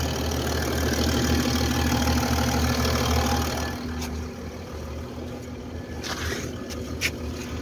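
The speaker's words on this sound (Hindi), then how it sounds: "स्टार्टिंग में है गाड़ी" A Mercedes-Benz S320 V6 diesel engine, W211 chassis with air suspension under repair, idles after starting with a steady close rumble, easing slightly partway through while faint clicks and knocks sound nearby.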